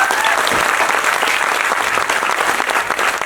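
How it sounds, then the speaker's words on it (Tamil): An audience gives a big round of applause: loud, close, dense clapping that fills a few seconds without a break. "அம்மாவுக்கு வந்து ஒரு பெரிய கரகோஷம் கொடுத்தல எல்லாரும்"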